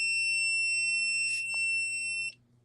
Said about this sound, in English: Why did that beep?